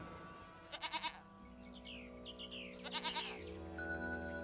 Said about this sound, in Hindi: गायें और बकरियों ने तो उनकी परिक्रमा करना शुरू कर दिया था।